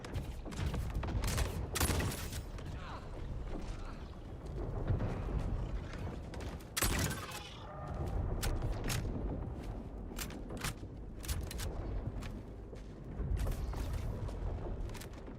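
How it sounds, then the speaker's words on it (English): NPCs in a video game fire shotguns rapidly, producing dense, loud bursts of blasts and booms with mechanical clanks, continuous through the whole stretch with no talking. "NPCs are shooting their shotguns so fast."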